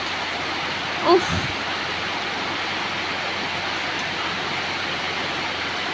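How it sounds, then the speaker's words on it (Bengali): Steady rain pours down on a rainy day outside a home near a pond and leafy plants, a constant broadband hiss throughout, with one brief vocal exclamation near the start. "এত বৃষ্টি পড়বে তো ভরবে না।"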